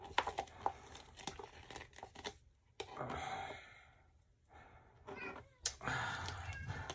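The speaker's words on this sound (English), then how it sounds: "I gotta let the cat in." A house cat meows at the door to be let in, several plaintive calls mixed with crinkling and rustling handling noises nearby, moderately loud and without talk.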